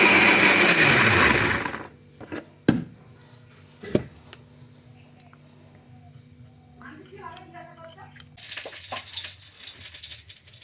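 A kitchen blender grinding a cauliflower and broccoli roast spice paste with a little water, loud and whirring for about two seconds before it stops, followed by a few clunks and someone speaking.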